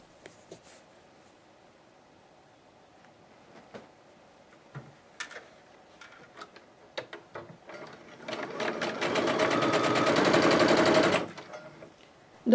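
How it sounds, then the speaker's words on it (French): A sewing machine stitches fabric squares together for a black and blue quilt block, running in one loud, steady burst of about three seconds after scattered small handling ticks and clicks. "je vais donc coudre tous mes carrés les uns avec les autres"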